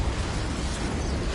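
A Confringo blasting spell in Hogwarts Legacy goes off as a dense, rumbling explosion that fills the whole short stretch with broad, roaring noise.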